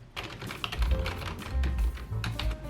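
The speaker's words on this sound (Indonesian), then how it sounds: "Untuk tombol dari keyboard ini adalah membran, jadi dia itu tidak mechanical." Fingers type quickly on an Imperion CW-210, a low-profile wireless membrane keyboard, producing soft, muffled, rapid key taps in irregular bursts, close and alone without speech.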